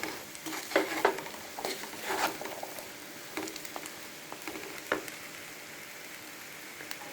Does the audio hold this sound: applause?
no